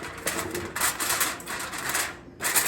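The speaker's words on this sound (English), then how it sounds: "I'm just going to cover it with foil." Aluminium foil crinkling and rustling as it is pulled over a pan of raw meatloaf in a home kitchen, a close, continuous papery crackle in several bursts with a brief pause near the end.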